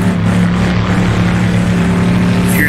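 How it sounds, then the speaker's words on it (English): Chevrolet Stingray Corvette from the 1960s GT class in a racing video game, its engine rattling and droning loudly and steadily while racing in the desert, with no talk. "Hear the engine rattling away on the inside."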